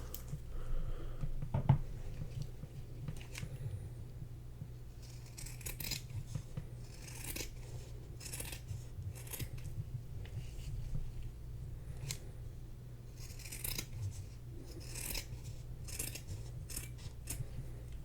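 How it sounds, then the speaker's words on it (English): Repeated crisp snips of scissors cutting through felt, close up, in irregular bursts over a low steady background hum. "Scissors."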